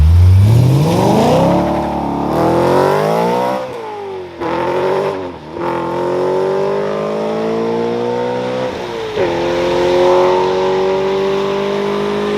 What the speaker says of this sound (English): First time driving the M5.